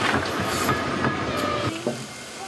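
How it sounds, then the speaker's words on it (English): The Hayling Billy steam locomotive runs on the Isle of Wight Steam Railway, a steady rolling rumble with rhythmic wheel clatter, heard fairly close with no voices. "it is the actual Hayling Billy locomotive, now back in service on the Isle of Wight Steam Railway"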